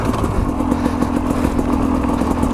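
A Sherco 250 SE two-stroke dirt bike runs steadily at close range, its engine buzzing with a fast, even crackle that never lets up, with no talking.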